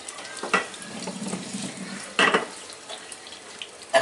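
Potatoes frying in oil in a pan while cooking kacchi biryani, a soft steady sizzle and bubble with a few louder crackling bursts, close and alone without talk.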